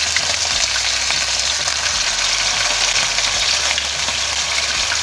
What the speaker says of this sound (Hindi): अब जो मछली के जो पीसीज हैं इसको हम हल्का सा फ्राई करेंगे